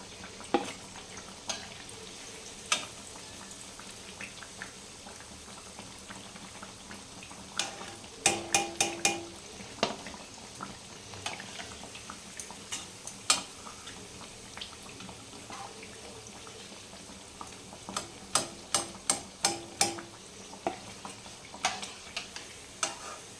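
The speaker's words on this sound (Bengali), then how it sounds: "এই দেখুন বন্ধুরা এইভাবে ভেজে নিতে হবে আপনাদেরকেও" Cabbage fritters fry in oil with a low, continuous sizzle, while clusters of sharp metallic clinks and scrapes from a utensil against the pan come and go.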